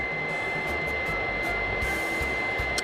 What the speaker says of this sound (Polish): Wentylator włączył się na maksa.